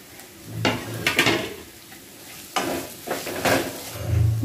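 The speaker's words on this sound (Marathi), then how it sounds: "आणि ते आपण आता छान मिक्स करून घेऊया" Soyabean paratha filling being stirred in a pan, with scraping strokes of a spoon in two bursts separated by a pause, close and clear with a light sizzle and no talking.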